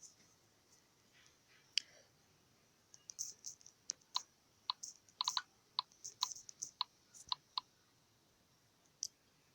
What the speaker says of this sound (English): Let us type something here.